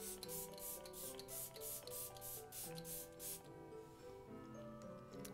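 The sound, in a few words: spraying Tarte Rainforest setting spray on face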